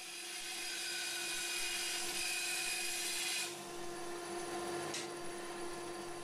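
A power saw cuts the top piece for a wooden box from timber, producing a steady, loud, high-pitched whine that drops in tone partway through and then carries on, with no voices.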